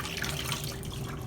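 A microfibre mop head dips into the water of a wringer bucket, giving soft close sloshing and trickling sounds, faint and brief with no voices.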